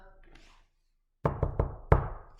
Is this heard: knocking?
yes